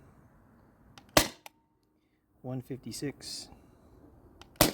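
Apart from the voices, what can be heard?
Sabre 68 HDL paintball marker firing shots over chronograph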